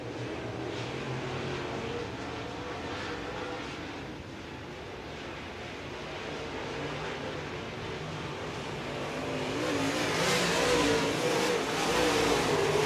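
Race cars run around a track, with a continuous distant roar of engines that builds louder toward the end as cars pass nearer, no voices.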